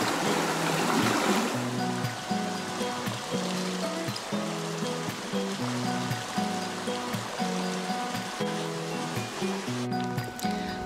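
Steady rushing water flows continuously nearby, a full broadband wash with gentle ripples and no voices.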